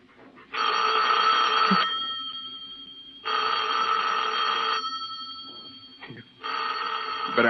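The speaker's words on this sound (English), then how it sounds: "You better answer the phone." A telephone bell rings in an old-time radio mystery drama, three long ringing bursts separated by short pauses, loud and close, with faint background sounds between rings.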